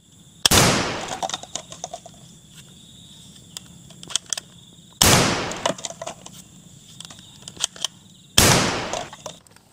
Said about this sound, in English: Blaster gun